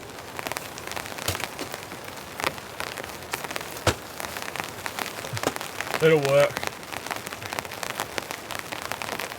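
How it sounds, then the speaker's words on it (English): Rain patters steadily on a compact camper van through the whole stretch, a dense wash of small drops with a few sharper taps, while a person speaks briefly near the middle. "Yeah, some nice rain now."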